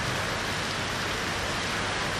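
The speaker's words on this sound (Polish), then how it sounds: "Niestety, deszcze już są." Rain falling in Laos, a steady dense hiss of drops on surfaces with no breaks or voices, constant and fairly close.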